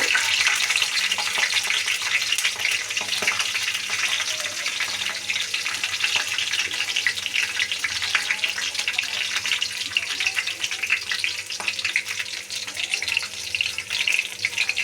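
Green chillies frying with garlic in oil in a pan for fish kulambu: a loud, continuous hiss and sizzle, close by, steady throughout with occasional small pops and no voices.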